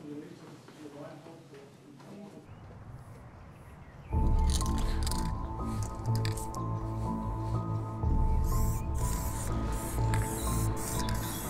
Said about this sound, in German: Sprayer machen sich an einer Wand zu schaffen